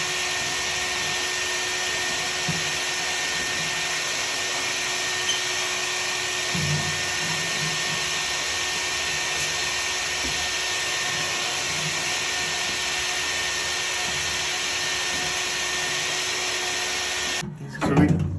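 A vacuum cleaner runs inside a gravity-fed gas furnace, a continuous close roaring hum with faint knocks of the nozzle against the metal, cutting off abruptly just before the end.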